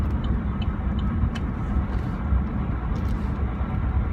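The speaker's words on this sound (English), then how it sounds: "the engine just kicked in and it's no longer using the main battery, and it will run off of the 4-cylinder generator now for the rest of the way" A Chevy Volt's four-cylinder gas generator engine runs steadily beneath a low road rumble heard from inside the car, a continuous muffled drone with faint ticks and no talk.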